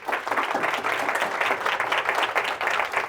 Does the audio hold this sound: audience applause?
yes